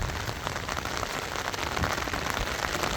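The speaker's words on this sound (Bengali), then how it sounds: "সকাল সকালই প্রচুর বৃষ্টি হচ্ছে" Heavy morning rain pours continuously onto surfaces outdoors near a vegetable garden, a dense, loud, even patter with no voices.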